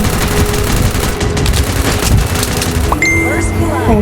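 Gunfire in the mobile battle game Free Fire, dense rapid bursts of shots crackling continuously over a loud busy game mix, with electronic tones near the end.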